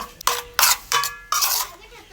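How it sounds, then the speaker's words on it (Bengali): A spoon works homemade tomato sauce and soy sauce into tilapia fish, giving several distinct scraping clinks against a dish in quick bursts, close and moderately loud, with no talking. "এবার এটা মাছটার মাধ্যমে ভালোভাবে মাখাবো দেখেন আমি চামচ দিয়ে করতেছি"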